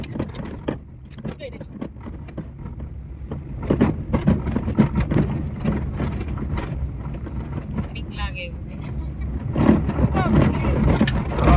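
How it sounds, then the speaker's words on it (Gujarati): A car rolls slowly along a rough road through Gir forest, its engine a low rumble with bumps and rattles, while people talk inside the vehicle throughout. "ધીરે ધીરે ગાડી ચલાવી રહ્યા છીએ"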